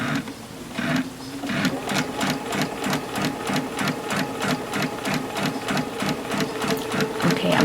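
A sewing machine stitches a seam through multiple layers of fabric where seams meet, a fast, even mechanical chatter running steadily throughout, with a voice speaking now and then over it.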